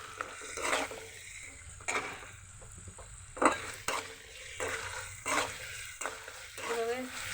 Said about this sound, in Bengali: এখন এর মধ্যে দিয়ে দিচ্ছি গোকুল মাছের শুটকিটা এই মশলার সাথে আমি ভেজে নেব